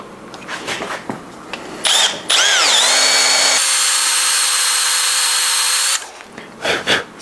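A power drill whines at high pitch, its tone sliding down as it bites into the metal of a car ball joint, then holds a steady, loud screech before stopping amid scraping handling noises.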